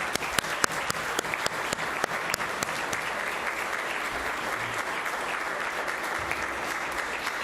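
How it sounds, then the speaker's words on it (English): Applause from the audience at a meet-the-candidates forum, a continuous, even patter of many hands with a few louder close claps, sustained at a steady level throughout. "Let's give our candidates a round of applause"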